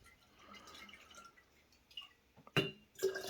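Warm distilled water swirled around inside a glass mason jar, faint trickling at first, then a few louder sloshing splashes near the end, with no talk.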